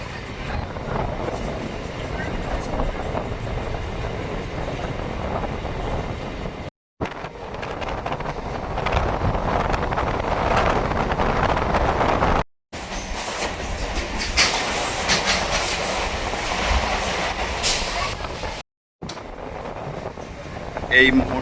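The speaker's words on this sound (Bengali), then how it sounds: "এই মুহূর্তে আমাদের ট্রেন প্রবেশ করছে তার প্রথম halt Bidhannagar road railway station" A Sealdah–Barasat local train enters Bidhannagar Road station. A continuous rumble of the moving coaches comes with wind buffeting the microphone and is broken by a few brief silent cuts.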